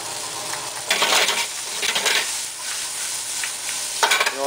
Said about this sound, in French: on commence par faire revenir les courgettes dans une casserole avec un petit peu de beurre